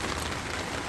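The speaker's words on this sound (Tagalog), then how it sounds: "Ayan, lakas ng ulan." Heavy rain pours steadily onto a surface outside a vegetable garden, a dense, continuous hiss with no pauses, loud and close throughout the short stretch.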